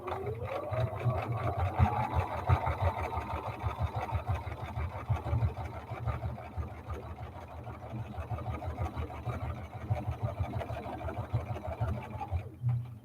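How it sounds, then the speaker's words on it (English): A sewing machine runs close by in one long continuous stretch, its needle chattering rapidly as it stitches down along a pipe cleaner. It stops near the end. "I'm going to sew all the way down."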